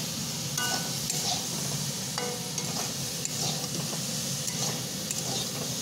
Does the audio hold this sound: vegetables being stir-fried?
yes